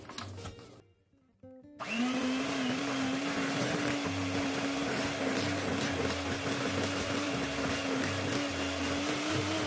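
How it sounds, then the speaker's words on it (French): An electric mixer whirs steadily as it beats cake batter with vanilla in a bowl, starting after a brief quiet pause and holding a close, constant motor drone with no voices. "Et là, je viens tout mélanger."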